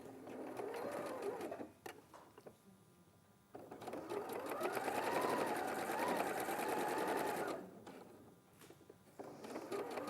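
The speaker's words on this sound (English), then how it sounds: "So we'll just sew between those notches using your 1 cent." A sewing machine stitches a viscose seam, with two steady whirring runs of rapid needle chatter close by, the longer one in the middle, and brief pauses between them.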